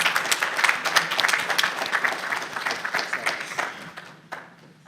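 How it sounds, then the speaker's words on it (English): A crowd applauds at an evening event after a winner is announced. The quick, many-handed clapping is fairly loud at first and gradually thins and fades over about five seconds. "Give him a round of applause."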